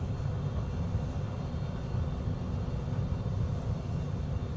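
An airplane taxis on a runway on a flight from Florence to Pisa, heard as a steady low engine rumble and drone throughout, with no talking.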